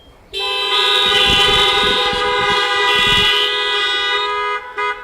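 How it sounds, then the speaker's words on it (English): Car horns honk in agreement at a BREAD Nehemiah Action community gathering: one loud, sustained blast lasting about four seconds, near and steady, ending with a brief second toot. "Honk if you agree with me"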